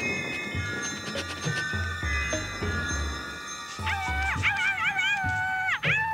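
A dog in an animated adventure whimpers and gives rising, wavering howls, close and clear, building from soft whines into longer drawn-out cries.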